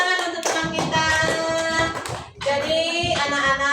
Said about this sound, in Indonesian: silakan tepuk tangan untuk teman kita